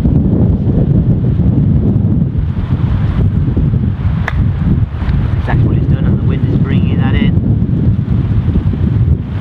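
Strong wind roars across an exposed seaside golf course, buffeting the microphone with a constant heavy rumble, while faint voices come through underneath.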